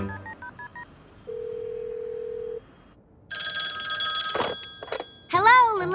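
A cartoon telephone goes off with a short run of dialing beeps, then a steady tone, then a loud, bright ringing bell in two bursts, followed by a warbling electronic chirp.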